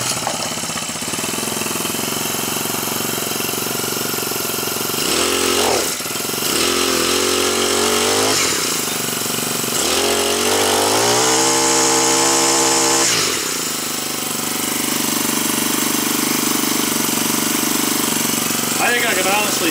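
Husqvarna 324L four-stroke string trimmer engine running close by, a steady buzzing drone that revs up and falls back a few times, with someone talking over it.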